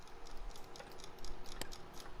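Clock tower ambience in LittleBigPlanet 3: faint, regular ticking clicks over a soft background hum, one sharper knock near the end, no voices.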